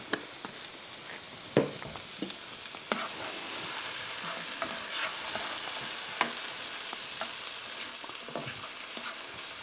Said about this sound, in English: And I'll put the garlic in there for about a minute.